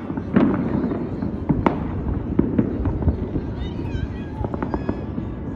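Fireworks crackle and pop continuously over Jaipur on Makar Sankranti, with sharp bangs scattered throughout, some distant whistling, under a dense crowd-like rumble.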